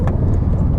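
An E31 BMW 840i AC Schnitzer drives around the block, its engine giving a steady, close, loud low drone for under a second with no talk.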